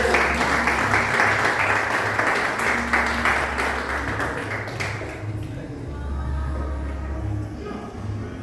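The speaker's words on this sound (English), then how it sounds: "Give one round of applause" A crowd at a mass meeting in Kingston, Jamaica breaks into loud, dense applause that holds for about five seconds, then fades into room noise with a low hum.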